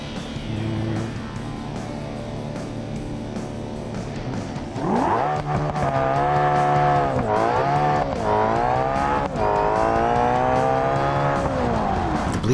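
Bolide race car in BeamNG accelerating hard onto a bridge, its engine note climbing loud and near through repeated rising sweeps broken by manual gear changes, after a quieter steady idle-like drone at the start.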